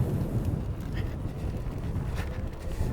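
Steady wind buffets the microphone during a long-distance bicycle ride past a pond in northern Romania, a continuous low rumbling roar with no breaks.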